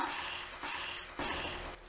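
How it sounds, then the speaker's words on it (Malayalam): A cup of water splashes and trickles steadily into okra and onion curry in a pot, a continuous liquid pour with a brief break near the middle, fairly close. "ഇനി ഇതിലേക്ക് ഒരു കപ്പ് വെള്ളം ഒഴിച്ചു കൊടുക്കാം"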